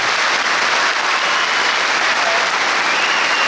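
Loud, dense applause from a large crowd honours the teachers at a graduation ceremony for 218 students completing Quran memorisation training, a sustained, even roar of many hands with no talk above it.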